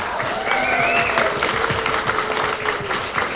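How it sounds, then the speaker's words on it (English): Applause from a convention audience at science fiction and fantasy con opening ceremonies, greeting award winners; steady, moderately loud clapping throughout with some cheering and voices in the crowd. "Let's give them a big round of applause."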